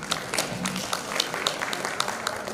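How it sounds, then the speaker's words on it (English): Audience applause for volunteers and directors of a charitable cause: a steady patter of many hands clapping, moderately loud and even, with faint voices mixed in. "we should give them a big hand of applause"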